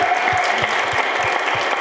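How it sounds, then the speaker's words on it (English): A panel event audience claps together in a steady burst of applause, moderately close and even throughout, with no talk over it. "Let's give her a round of applause."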